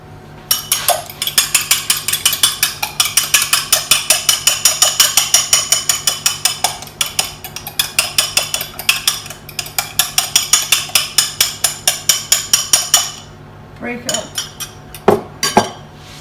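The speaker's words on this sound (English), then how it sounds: "So with a fork, we're going to give these a whisk" Fork whisking eggs in a bowl: rapid, rhythmic metallic clinks against the bowl, loud and close, running steadily before breaking into a few scattered taps at the end.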